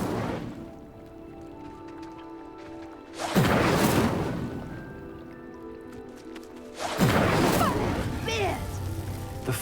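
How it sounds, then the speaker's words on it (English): A pyre lit by the Incendio spell in Hogwarts Legacy erupts in two loud, rushing fiery bursts a few seconds apart, each fading into a rumbling hiss as the pyre sinks. "The flames make the pyre sink."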